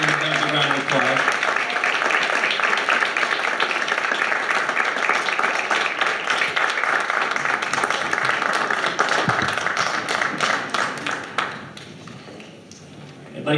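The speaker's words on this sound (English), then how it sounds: "Give them a round of applause." An audience applauds poetry recitation contestants on stage at a high school event, a dense and steady round of clapping that carries on for about eleven seconds, then drops away to quieter room sound.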